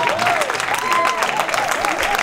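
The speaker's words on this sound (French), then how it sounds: "Applaudissez-la, s'il vous plaît." An audience claps continuously at a televised beauty-contest verdict, a dense, loud, steady wash of applause with a voice rising over it.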